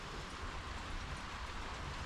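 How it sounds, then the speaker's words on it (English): Rain falls during a June holiday in Normandy, making a soft, even hiss that stays faint and steady throughout, with no voices. "we get our first rain of the holiday."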